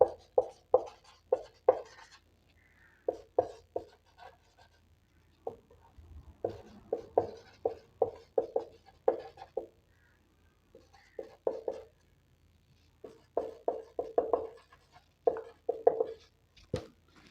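Chalk or marker writing a sentence on a classroom board, repeated short scratchy strokes in uneven bursts with brief pauses, close and clear with no talk.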